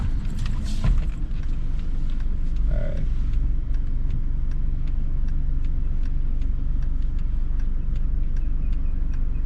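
A car creeps slowly through a cone maneuver during a Florida driving test, its low engine rumble steady and close throughout, with faint creaks and regular soft ticking on top and no talking.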